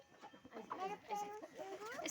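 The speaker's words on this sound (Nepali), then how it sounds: "यसलाई त अरूको कुखुराले पो लखेट्दै रहेछ बिचारा।" Chickens chasing one another, with close, faint clucking and squawking calls in quick irregular bursts.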